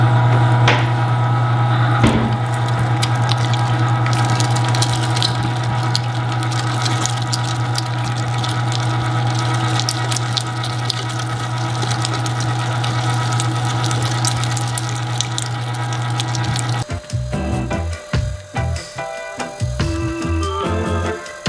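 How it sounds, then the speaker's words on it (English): A meat grinder chews through beef brisket trimmings, a close, loud steady motor hum with a gritty churning texture running continuously, then clanking and irregular knocks toward the end as it works the last pieces. "I'm gonna bring you in close and start this grinding."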